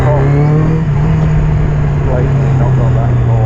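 Yamaha XJ900 Diversion motorcycle engine after an upjet fix, running loud and steady with a strong low drone and a high whine, close up, with no clear rise or fall in revs.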